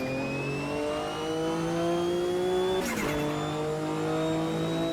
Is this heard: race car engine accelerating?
yes